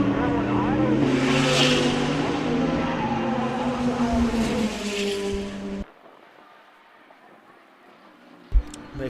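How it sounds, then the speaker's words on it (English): Race cars roar past at a National Extreme Festival, a loud engine drone that fades and cuts off abruptly partway through, leaving faint background noise and a brief sharp knock near the end. "So the only Class D car out there is the 27 car of Wayne Hoffman."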